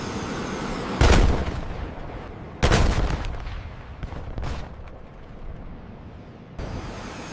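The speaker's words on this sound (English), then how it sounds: "The targeting systems and crew training allow the M1A1 to fire accurately while moving." An M1A1 Abrams tank fires its main gun while on the move, giving two heavy, booming blasts about two seconds apart over a steady rumbling engine and track noise, followed by a third sharper report near the end.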